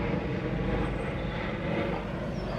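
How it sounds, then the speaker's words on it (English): A helicopter flies overhead as a continuous broad, rushing drone that stays steady and fairly even in loudness throughout, heard alone without speech. "There is a helicopter flying over me."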